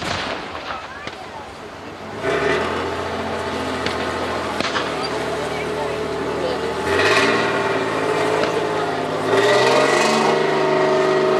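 An M36 Jackson tank destroyer drives past at a Second World War battle reenactment, its engine a loud, steady low rumble that swells in pulses as it revs, with a commentator talking over it throughout.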